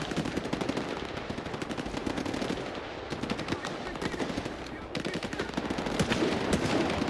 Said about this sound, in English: What are they shooting at there?